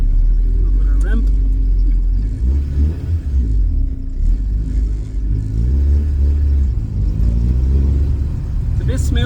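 A Mini's engine runs as the car drives, with freshly cleaned idle air control valve and new plugs, distributor cap and rotor, a loud, low rumble throughout with someone talking over it.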